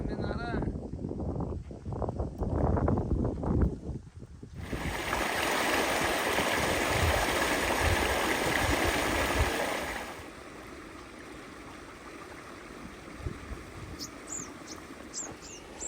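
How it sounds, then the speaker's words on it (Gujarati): Irrigation water pumped by motor from a river pours into a farm field channel, a steady close rushing wash filling the middle of the clip after a stretch of handling noise and rustle, then quieter trickling afterward. "તો આ પાણી વાળે છે."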